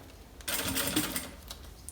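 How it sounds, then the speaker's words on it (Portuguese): A sewing machine stitching a zipper onto a synthetic-fabric bag gives a short, close, rapid mechanical run of clattering stitches, starting abruptly and fading out. "Vou começar também costurando do meio pra frente. Vou passar aqui a costura."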